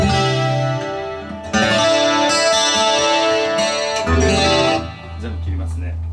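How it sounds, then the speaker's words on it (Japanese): Chords strummed on a Takamine DMP-50S acoustic-electric guitar with a chorus effect, giving a shimmering, doubled tone; several strokes ring close and loud over about six seconds before settling into a softer sustained chord. "コーラスかけるとこんな感じ。"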